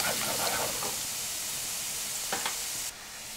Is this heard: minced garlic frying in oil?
yes